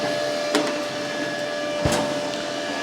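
A constant whirring hum from the large cooling fan of a Parkside PMSG 200 A2 multi-process welder, with a steady tonal whine, broad and even, with a couple of faint clicks over it.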